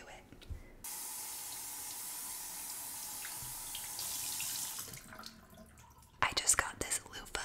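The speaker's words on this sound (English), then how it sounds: "I just got this loofah very wet" Tap water runs steadily for a few seconds to soak a loofah before shower gel is applied, a soft hiss that stops and gives way to close, wet handling sounds.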